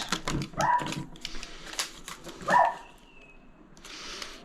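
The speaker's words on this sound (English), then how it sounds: "Dog's barking, doesn't like the sudden noise" A dog barks a few times in short bursts, a bit distant, amid clattering noises and a brief high whine; no talking.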